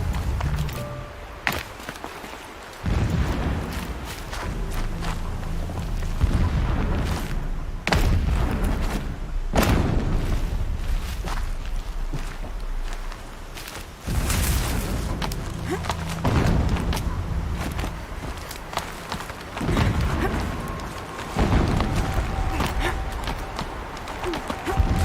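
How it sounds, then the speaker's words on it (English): Heavy booming thuds and slams from distant explosions in the video game Horizon Zero Dawn, recurring irregularly every few seconds over a busy, loud background. "Explosions in the distance."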